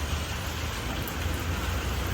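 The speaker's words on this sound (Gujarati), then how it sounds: "આ અમારા વેલેન્જા ગામનો વરસાદ" Dense, steady hiss of rain falling on surfaces in Velenja village, constant and fairly loud, with a low background rumble.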